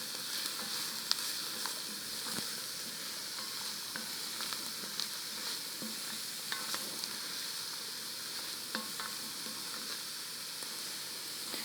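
Chopped vegetables including carrots sizzle steadily in a pot for split pea soup, a continuous close frying hiss broken by occasional scrapes and clicks of stirring, with no voices.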